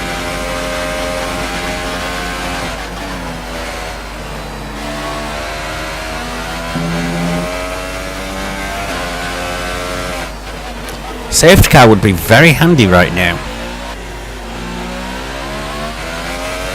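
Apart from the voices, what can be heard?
F1 car engine racing in F1 2018 video game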